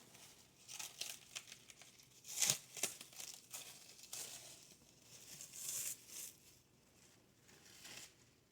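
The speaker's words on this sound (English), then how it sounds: "I'm going to pull the plastic off of the cheese ball." Plastic wrap being peeled and pulled off a bacon jalapeño popper cheese ball, giving soft crinkling and tearing rustles with a couple of sharper crackles, close up and fairly quiet.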